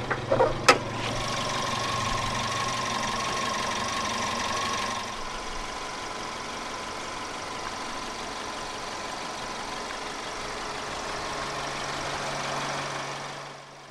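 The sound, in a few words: 2008 Suzuki Swift Sport M16A 1.6-litre inline-4 engine idling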